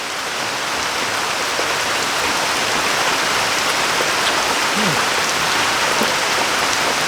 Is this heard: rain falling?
yes